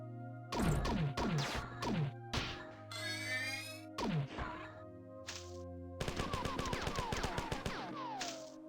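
Sniper shots in the classic shooter Marathon, set in a labyrinth level: a run of sharp, loud cracks and smashes, single at first and then a rapid close burst, with metallic ringing tails and no talk.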